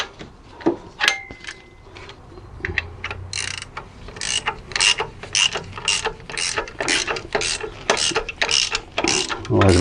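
Ratchet clicking rapidly while tightening screws on a Seat Ibiza 1.6 gearbox, bursts of close mechanical ratcheting with occasional clinks of tools, fairly loud and continuous.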